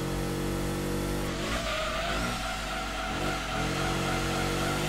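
A race car in Gran Turismo 2 brakes late and skids, its engine droning loudly while the tires screech and scrub for a few seconds before the engine note picks back up.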